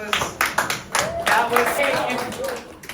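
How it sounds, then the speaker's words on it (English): Students in a high school classroom clap for themselves after a mock trial, a short burst of scattered hand claps mixed with lively voices talking and cheering over it. "give yourselves a round of applause"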